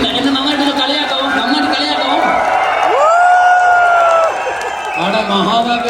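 An audience at a motivational talk erupts in loud cheering, whoops and shouts, a dense crowd roar swelling in the middle with rising whistles and yells, with a voice speaking at the start and end.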